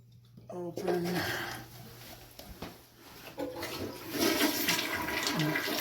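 A toilet in a cabin being shut down for the season flushes nearby with a rushing gurgle of draining water that swells again as the tank empties, while a person talks over it.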